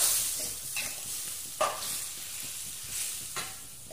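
Food sizzles and crackles in a frying pan, with a spatula scraping and stirring at a few points, steady and close throughout.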